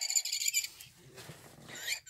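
A cheap Smarty Cat cat toy gives off a synthetic electronic bird call, a bright chirping burst at the start, a softer lower stretch in the middle and a rising chirp again at the end.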